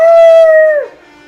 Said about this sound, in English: Oh, they're gonna have the dog escape.